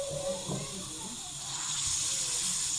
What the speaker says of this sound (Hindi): चिकन को हमने फ्राई करना है।